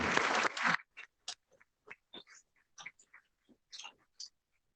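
A short burst of audience applause for State Superintendents O'Connell and Torlakson at a memorial event for former State Superintendent Delaine Eastin, dense for under a second, then thinning to a few scattered, isolated claps.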